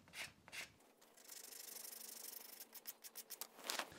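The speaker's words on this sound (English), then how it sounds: "you can really sand it down, work it down very rapidly" Sanding Magic Sculpt epoxy clay, a sculpted rat figure, gives a soft, faint rubbing rasp that runs steadily, then breaks into a run of short quick strokes near the end.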